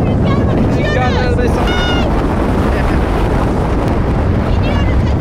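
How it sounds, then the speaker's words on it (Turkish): Strong wind buffets the microphone aboard a fast-moving tour boat, a loud continuous roar with water rushing beneath, while people talk and shout over it. "Acayip rüzgar var, uçuyoruz."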